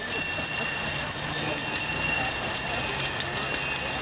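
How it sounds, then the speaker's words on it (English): Many small hand bells jingle together in unison in a steady, continuous shimmer, fairly loud and unbroken for a few seconds, at a graduation ceremony. "ring their bells in unison now"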